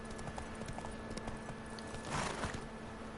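Horse hooves clopping in The Witcher 3 video game, a steady run of soft hoofbeats under a continuous game ambience, with a brief louder swell of sound near the end.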